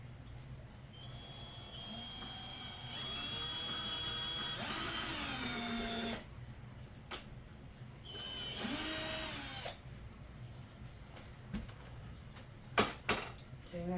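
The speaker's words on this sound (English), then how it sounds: "I was getting ready to start drilling" A handheld power drill bores a hole into a scrap board on a kitchen table, two separate whining bursts of a few seconds each that rise and fall in pitch, with quiet clatter between and afterward.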